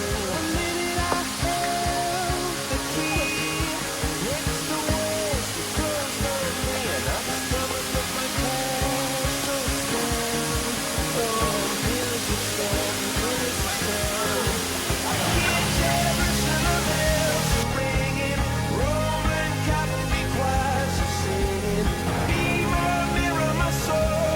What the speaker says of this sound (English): I think it's like a waterfall over there